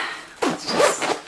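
A zipper on a new YSL handbag being pulled open, a short scratchy run of zip teeth with a brief pause, heard up close and fairly quiet with no talking.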